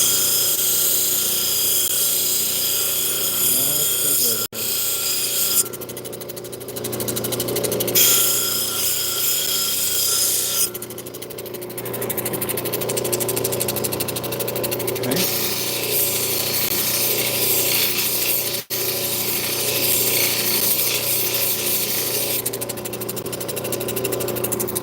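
A power tool grinds and shaves a piece of obsidian into a small teardrop shape, a steady close whir with rasping, scraping variations as the stone is worked, running continuously without speech.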